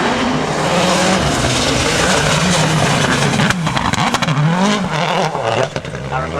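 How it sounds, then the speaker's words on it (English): A Citroen C4 WRC rally car on the Rally of Great Britain 2009 roars past with rising and falling engine pitch and gear changes, loud and close, while a commentator talks over it. "I think it's Aaron Burkhart's Citroen C4 WRC"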